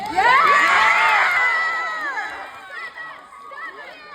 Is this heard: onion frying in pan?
no